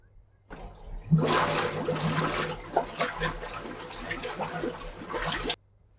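A homemade bubbling water machine made from a bucket starts up after a brief pause, then churns with steady gurgling, splashing water for several seconds before cutting off abruptly.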